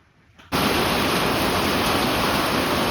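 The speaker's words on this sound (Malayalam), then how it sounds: "ഭയങ്കര മഴയുണ്ട് ഒരു രക്ഷയില്ലാത്ത മഴ" Heavy village rain roars in suddenly after a near-silent half second, a dense, steady downpour that stays loud and unbroken to the end.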